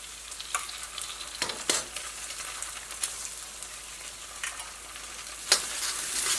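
Vegetables for restaurant-style fried rice hiss steadily in a hot pan, and a spatula stirs them in a few scraping, clattering strokes. The sound is close and continuous with no voices.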